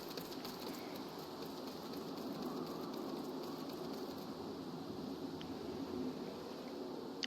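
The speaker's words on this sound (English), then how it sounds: "And it is still raining." Rain in the video game Final Fantasy XIV: A Realm Reborn falls as a soft, continuous hiss of even, quiet ambience with a faint low rumble, without speech.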